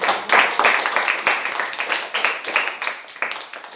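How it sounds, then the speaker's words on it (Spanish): A church congregation claps and applauds in a dense, lively burst of many hands, steady throughout with no talking. "Dale un fuerte aplauso al Señor Jesús."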